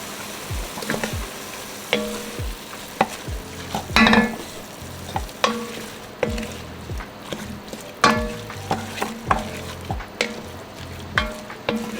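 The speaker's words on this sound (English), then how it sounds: "we're just gonna cook off the bitterness off that tomato paste" Tomato paste and garlic cooking in a pot for a beef neck bone stew, with a low sizzle under repeated scraping and clattering stirs at an irregular rhythm, close by with no talk.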